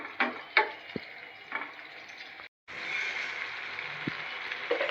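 Eggplant simmers in tomato gravy in a pan for a catering-style eggplant and chana dal curry. A soft, steady sizzle is broken by a few light clicks and stirring taps, with no voices.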